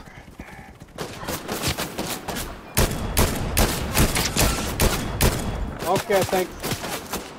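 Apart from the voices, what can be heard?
gunfire in the video game Fortnite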